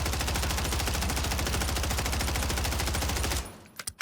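Rapid automatic gunfire from a fairly accurate gun in the Warzone video game on Rebirth Island, a loud, continuous burst that stops abruptly near the end, followed by a few faint clicks.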